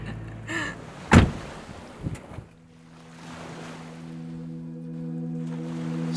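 A car door opens aboard a ferry with one sharp, close clunk amid wind and water noise. A steady engine hum follows.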